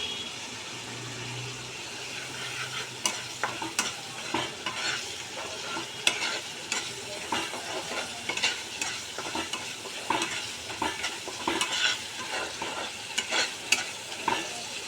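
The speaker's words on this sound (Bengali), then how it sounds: "হলুদ, লঙ্কা গুঁড়ো, মিষ্টি সব দিয়ে এই মশলাটা কষাচ্ছি।" A spice paste with turmeric, chili powder and sugar sautés in oil with a steady sizzle, while a spatula scrapes and taps the pan in frequent irregular strokes, close and moderately loud, with a faint low hum early on.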